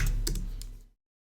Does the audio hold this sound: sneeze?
no